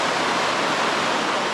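A big waterfall and river near Goldmyer Hot Springs in the Cascade foothills give a steady, dense rushing roar that holds evenly throughout without a break.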